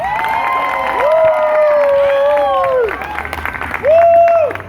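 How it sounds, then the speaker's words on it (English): Wedding guests applauding and cheering at a reception, clapping under loud whoops and drawn-out shouts, with a second cheer rising near the end. "can we get a round of applause for Mr. and Mrs. Francis?"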